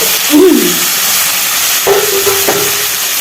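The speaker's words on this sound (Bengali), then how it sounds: "সিম করে দিয়ে আমি কষাতে থাকবো" Spiced meat being stir-fried in a pan, with a constant loud sizzle and a few scraping strokes of a utensil across the pan.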